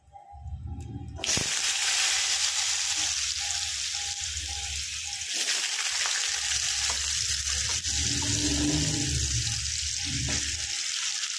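Potato pieces dropped into hot oil that already holds bay leaf and cumin, bursting into a loud, steady sizzle that continues to the end with faint stirring.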